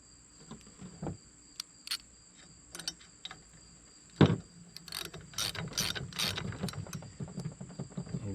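A wrench ratchets as the safety bolt is tightened on a Roadmaster Stowmaster 5000 towbar, with quick clicking bursts and scattered metallic knocks from close by, and no talking.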